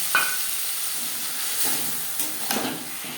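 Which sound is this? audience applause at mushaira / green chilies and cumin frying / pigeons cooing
green chilies and cumin frying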